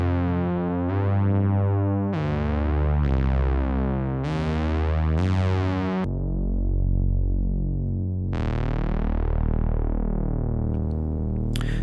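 Behringer Toro bass synthesizer playing thick, buzzy sawtooth-like bass notes, a run of short repeated notes followed by long sustained tones, loud and close with no other sounds.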